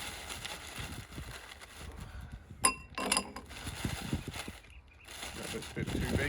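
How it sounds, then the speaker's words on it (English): A big handful of ice cubes clinks into a gin and tonic glass at the beach, two or three bright, brief clatters in quick succession over soft outdoor background noise. "To that we're going to add a big handful of ice"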